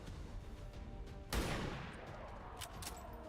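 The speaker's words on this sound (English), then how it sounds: "And then we use the sniper to finish him off." A single sharp sniper rifle shot in a video game, loud and sudden, its report ringing out briefly over a quiet low background before a few fainter sounds follow.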